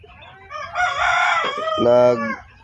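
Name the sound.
chickens clucking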